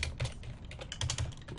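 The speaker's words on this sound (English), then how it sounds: "It's hard to type and talk." Typing on a computer keyboard while writing code, a close, quiet patter of quick key clicks in short irregular bursts.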